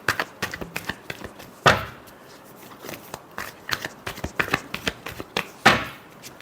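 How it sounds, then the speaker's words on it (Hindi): Tarot cards are shuffled by hand in a quick run of crisp riffling taps and slaps, with two sharper, louder bursts where the deck is squared or bridged, close and clear with no talk. "last shuffle"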